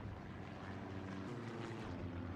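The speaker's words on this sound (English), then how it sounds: "Sounds like an enemy recon plane." An enemy reconnaissance plane in a World War II video game drones overhead, a steady propeller-engine hum with a broad rumbling wash that holds level throughout, no speech.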